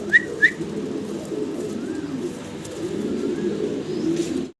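Black dragon pigeons, a fancy breed, coo in soft low continuous murmurs nearby, with a couple of brief whistling chirps at the start.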